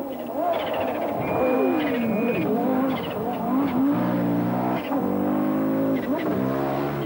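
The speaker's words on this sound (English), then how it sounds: "it was Hannu Mikkola, with his Audi's wastegate chattering happily away" Hannu Mikkola's Audi rally car charges through a forest stage at dawn in Llanfan, its engine rising and falling in pitch with rapid chattering wastegate bursts, loud and close.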